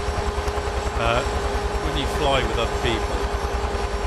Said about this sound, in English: always nice to fly with other helicopters, especially when you've got Hueys like this